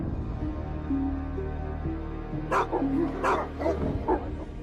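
A domestic dog barks and yips a few times in short bursts, close and fairly loud, over a low steady background hum.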